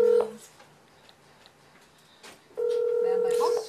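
A telephone rings unanswered in two bursts, a brief ring at the start and a longer steady ring near the end, with quiet room noise and faint background sound between them.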